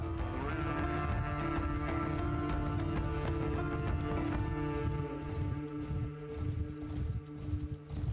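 Horse hooves gallop in the video game Mount & Blade II: Bannerlord, a rapid clip-clop rhythm under a sustained tonal game soundtrack.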